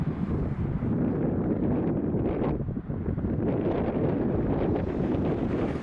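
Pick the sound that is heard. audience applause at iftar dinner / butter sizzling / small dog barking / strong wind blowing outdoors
strong wind blowing outdoors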